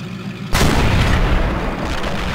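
A tank in a video game fires artillery over obstacles: a single sudden, loud cannon boom lands about half a second in, followed by a long rumbling tail that slowly fades.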